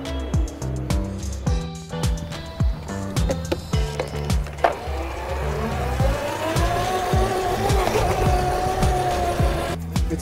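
A Razor e300 electric scooter with an upgraded lithium battery is ridden outdoors, its motor giving a steady, rising whine over rattling and bumping from the deck and wheels, continuous and fairly close.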